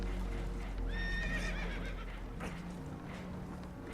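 Spooked horses whinny in a Red Dead Redemption 2 game scene, one sharp shrill neigh rising over rumbling background noise and hoof clatter, fairly close but moderately quiet.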